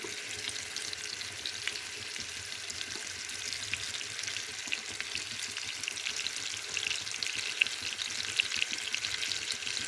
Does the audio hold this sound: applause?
no